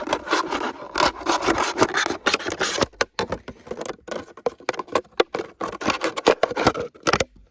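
A knife with a wooden handle cutting into a stick of soft linden wood outdoors, giving repeated close rasping, scraping strokes in irregular bursts with short pauses between cuts.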